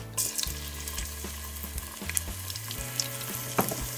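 Close, steady sizzling of garlic paste frying in a hot pan, with occasional stirring scrapes and no talking.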